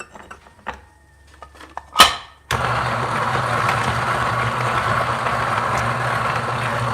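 A Niche coffee grinder grinds beans for a Hario V60 pour-over. A steady, loud mechanical whir runs without a break through the second half, after a short clatter and a sharp click.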